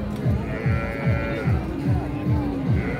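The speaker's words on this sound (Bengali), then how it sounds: "গাভী এবং বাছুর।" A cow and calf at a cattle market lowing in repeated short moos, about seven in a regular rhythm, close and loud over a steady market murmur of crowd noise.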